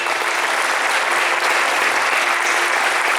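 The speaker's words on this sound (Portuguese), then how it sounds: "Aplauda os céus bem forte." A church congregation at a night prayer vigil claps loudly and continuously, a thick, uniform roar of many hands with no pause across the short stretch.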